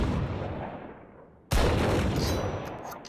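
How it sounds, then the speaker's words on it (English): Shotgun blasts from the Outlaw gun in a video game: the tail of one shot dies away, then a sharp, loud, close blast cracks out and rings into a long fading echo. "There's like a different sound to the second shot when both of the shells are empty."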